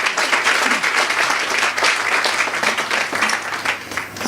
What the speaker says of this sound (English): Another round of applause, please, for Lanny.